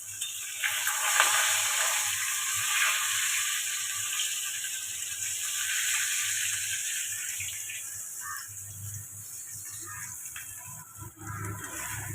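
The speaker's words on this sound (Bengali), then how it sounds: "বড়ি ভেজে নিলাম" Bori lentil dumplings frying in a pan in a small home kitchen, giving a steady close hiss and bubbling sizzle with faint clatter over a low rumble throughout.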